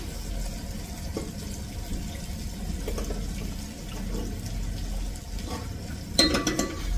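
Water poured into a cooking pot on the stove over spices already fried, a steady close splashing flow with faint clatter and a brighter burst near the end.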